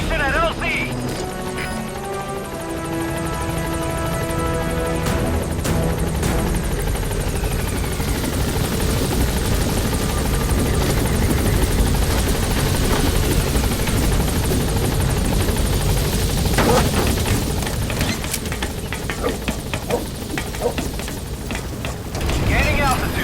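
A support helicopter in Metal Gear Solid V descends to the landing zone, its rotor thumping loud and steady throughout, with a radio voice speaking over the constant roar.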